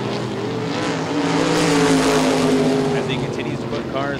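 Top Speed Modified Tour race cars roar around the oval at Baer Field, a loud sustained engine drone that swells as cars pass close, with a commentator talking over it.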